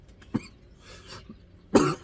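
Two coughs from one person, a short sharp one early and a louder, longer cough near the end, with quiet room tone in between.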